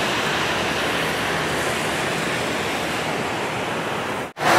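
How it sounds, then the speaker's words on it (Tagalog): Tvindefossen waterfall in Norway roars with a loud, steady rush of falling water heard up close, broken by a brief dropout near the end before the roar returns. "daloy ng tubig papunta dito oh"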